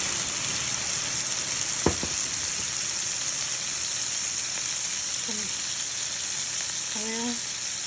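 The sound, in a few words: tomatoes sautéing in a pan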